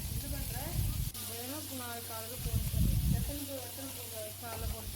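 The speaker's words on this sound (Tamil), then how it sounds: "இப்போ கழுவி வச்ச பிரண்டையும் போட்டு நல்லா எண்ணெய் கொஞ்சம் தாராளமாகவே ஊற்றி இது நல்லா கலர் சேஞ்ச் ஆகி வர வரைக்கும் இது நம்ம வறுக்க போகிறோம்" Washed pirandai (adamant creeper) fries in a generous amount of oil, giving a steady close hiss and sizzle while a voice talks over it.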